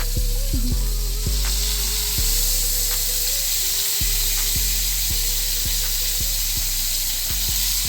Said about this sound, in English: let it melt on both sides while we get a good sear on that side